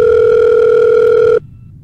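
A steady telephone tone from a video game plays loud and unbroken for over a second, then cuts off abruptly into silence, like a call being placed.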